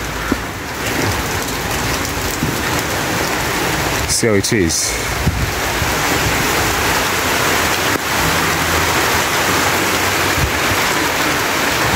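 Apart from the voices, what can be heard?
rain falling while walking through Mombasa neighbourhood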